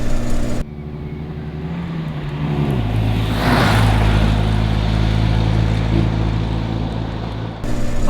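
A Series 1 Land Rover is driven, its engine droning loud and close inside the cabin, with the pitch stepping down as the gears change and the note then holding steady under a rising rumble.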